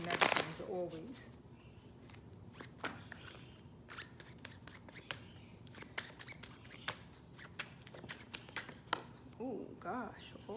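Tarot cards being shuffled by hand, a rapid rustling riffle with sharp snaps and taps of card edges, close and fairly loud, with brief bits of talk between.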